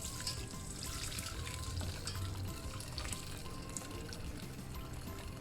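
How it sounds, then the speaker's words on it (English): Red snapper tofu fish soup is poured from a cooking pan into a serving vessel, giving a steady close splashing, sizzling pour with faint clinks over a few seconds, no talking. "Pour the soup."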